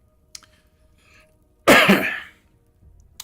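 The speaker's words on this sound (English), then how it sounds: "Pardon the cough." A single sharp cough bursts out close by, loud and brief, with a short rough tail, in an otherwise quiet room.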